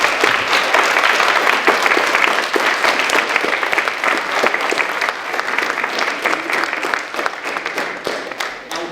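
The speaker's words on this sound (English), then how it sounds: "Big round of applause." A school audience claps loudly and continuously for about nine seconds, a dense crowd applause that slowly thins toward the end.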